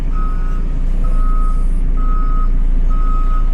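A new JCB backhoe loader with DualDrive sounds its reversing alarm: four evenly spaced beeps about a second apart, loud and close over a steady low diesel engine rumble, with no talking.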